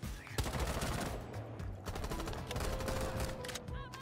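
Dense, rapid gunfire from Rainbow Six Siege gameplay, overlapping automatic bursts and shots filling the whole stretch, loud and close with a busy game mix underneath.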